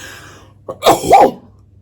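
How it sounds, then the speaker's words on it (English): A single sharp sneeze, a short intake followed by a forceful burst, close and loud, with quiet before and after. "I'm going to sneeze."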